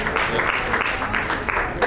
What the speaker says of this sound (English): So he gets a biased round of applause